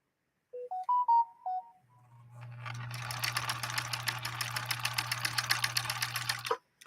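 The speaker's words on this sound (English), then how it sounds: "let's see how we do with this really long, really wide zigzag stitch on this model 2000" Husqvarna Viking model 2000 sewing machine sews a long, wide zigzag stitch at a slow, steady pace, a rhythmic mechanical chatter over a constant motor hum, preceded by a few short electronic beeps.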